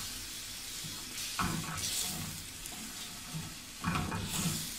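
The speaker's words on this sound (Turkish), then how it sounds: "Çünkü sıcakla temas ettiği için sıçrama yapıyor." Warm water is poured into a hot pan of cornmeal for kuymak, setting off a strong steady sizzle with bursts of spattering and stirring, close up and with no voices.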